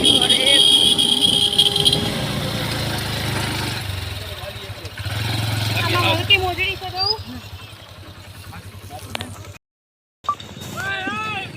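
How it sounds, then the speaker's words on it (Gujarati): A motorcycle engine strains and revs while being ridden up a steep cement ramp to a hilltop temple near Rajkot, loud and close at first, then easing off, with people talking over it and a brief dropout near the end. "એના પપ્પા બાઇક ચડાવે છે"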